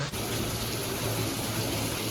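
Heavy monsoon rain falls steadily in Karjat, a dense continuous hiss with no pauses, close and fairly loud throughout.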